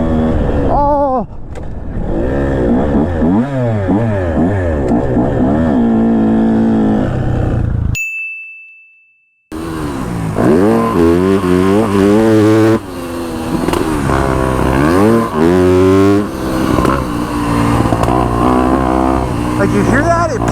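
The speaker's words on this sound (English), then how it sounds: "Every time I let go of the throttle, it feels like I'm backfiring." Brand new Yamaha YZ250F dirt bike engine revving and rising in pitch through repeated throttle blips, dropping out briefly and then revving on, loud and close while riders talk over it.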